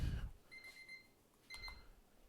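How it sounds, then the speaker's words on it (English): A timer beeps quietly in two short electronic bursts, one longer and one brief, in an otherwise quiet room. "So much beeping."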